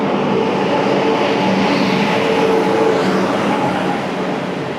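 A train pulls into platform 2 at a station, a loud steady rumble of wheels and carriages filling the scene with a faint hum on top, easing slightly toward the end.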